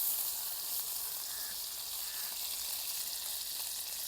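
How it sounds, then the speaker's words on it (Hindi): Saag tempering in melted butter in a frying pan gives a steady, close, even sizzle with a faint hiss throughout and no voices. "तो यहाँ पे जी लगाया जा रहा है साग को तड़का।"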